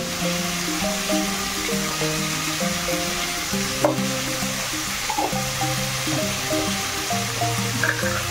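Masala sizzles and fries steadily in a pan while cooking moong dal with cabbage, a continuous crackling hiss close up, with brief stirring clinks and no voices.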